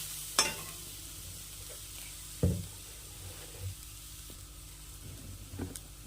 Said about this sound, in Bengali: দিয়ে ভালো করে নেড়ে ঝেড়ে কষিয়ে কষিয়ে গুড়টাকে রেডি করতে হবে